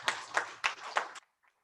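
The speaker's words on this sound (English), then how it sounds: "Can we clap for ourselves, all of us?" Meeting attendees at an annual general meeting clap together in a short burst of about five claps, fairly close and clear, which stops abruptly into near silence.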